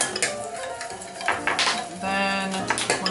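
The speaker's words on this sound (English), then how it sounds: "Mix this up." Soy sauce, sugar and minced garlic stirred together in a bowl: quick clinking and scraping of a utensil against the dish in an irregular rhythm, close and fairly loud, with no talking.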